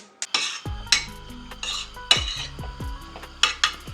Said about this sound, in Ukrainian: І ставлю чашку на вогонь.